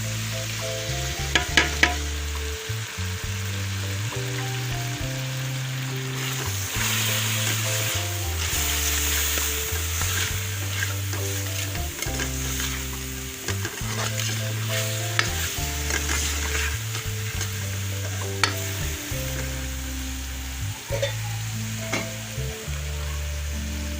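Spices sizzle loudly in a frying pan while being stirred for a goat intestine (ojri) dish, a continuous close hiss broken by repeated scraping stirs, with no voices.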